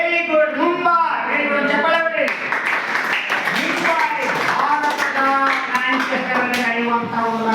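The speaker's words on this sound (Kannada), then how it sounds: "ಚಪ್ಪಾಳೆ ಹೊಡಿ." A ninth-grade classroom claps on the teacher's cue: scattered, light hand claps sound under a teacher's voice, which dominates throughout.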